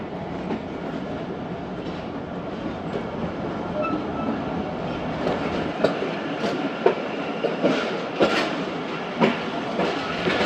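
Jaffar Express rolling along the rails near Lala Musa junction yard, a steady dense rumble with rhythmic clickety-clack wheel beats and sharper knocks growing louder toward the end, no voices.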